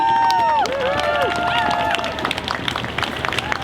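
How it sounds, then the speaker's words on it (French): A crowd at a solidarity march for equality in Montréal, Québec, applauds and cheers outdoors, the broadband clapping running steadily through the clip with a whistle-like tone and crowd noise layered over the start. "Une bonne main d'applaudissement, s'il vous plaît."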